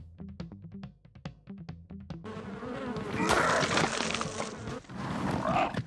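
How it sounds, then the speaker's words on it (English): Flies buzz around a corpse in Ark Survival Ascended, a droning insect hum that rises and swells over a few seconds after a series of short rhythmic thuds, fairly close and loud. "Oh, is that just the flies buzzing around a corpse?"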